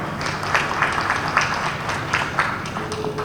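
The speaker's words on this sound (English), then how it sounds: "please, a round of applause to all the pitches so far" Audience applause at a blockchain startup pitch day, a steady patter of many hands clapping at moderate distance, fairly even for a few seconds with no voices over it.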